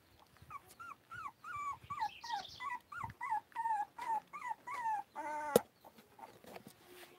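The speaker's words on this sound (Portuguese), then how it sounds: "Esses cachorrinhos estão pra doação." Puppies whimper close by in a steady, rhythmic run of about a dozen high, wavering whines, ending with one sharp yelp. Nobody speaks.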